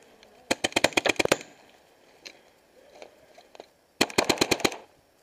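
A paintball marker fires rapid bursts on an outdoor field, a quick string of about nine sharp close shots, a few scattered pops in between, then another burst of about seven.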